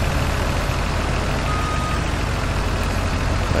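Farming Simulator 2019 farm vehicle backing up with its engine idling, a dense steady low rumble carrying faint repetitive reversing beeps, no speech over it.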